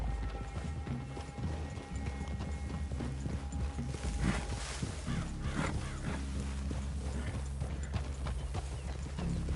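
Horse hooves clip-clop in a steady walking rhythm on a dirt trail in Red Dead Redemption 2, close and continuous over soft outdoor ambience and light tack jingling.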